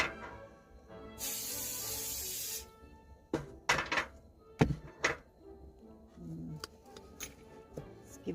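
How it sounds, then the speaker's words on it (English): Cooking spray hissing from a can onto a heated pan in a short burst of about a second and a half, followed by clinks and thunks of utensils against the pan. "Spray this a little bit."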